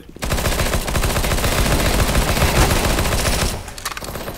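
A decoy grenade in CS:GO mimics automatic gunfire with a dense, loud burst of rapid shots lasting about three seconds before cutting off, followed by faint game noise.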